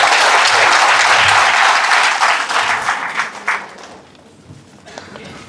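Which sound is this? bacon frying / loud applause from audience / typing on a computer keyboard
loud applause from audience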